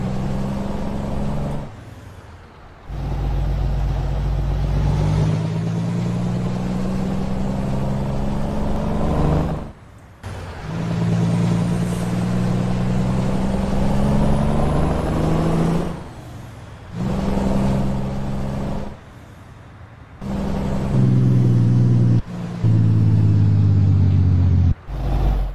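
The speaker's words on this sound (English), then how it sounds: "I like the sound of the engines more than I like the brand of the engine" Steady loud rumble of a heavy truck engine in a video game, droning continuously with brief dips and surges as it shifts, no voices.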